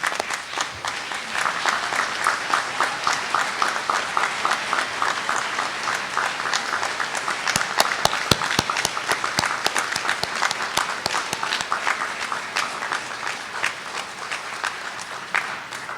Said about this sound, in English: So please rise and applause for them.